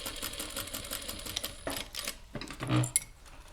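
Sewing machine stitching a fabric phone stand with a few stitches and a backstitch, a quick mechanical rattling patter, close up, broken by brief pauses and a small clunk.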